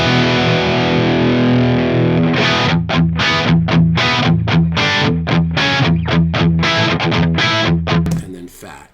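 A Mesa Mark IV guitar amp on its lead channel with pull fat off: a sustained, heavily distorted chord rings out, then a run of fast, rhythmic picked notes, loud and close.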